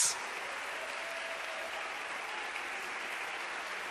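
Sustained, even applause from a church audience fills the whole stretch as a dense, steady patter of many hands at moderate distance, without speech on top.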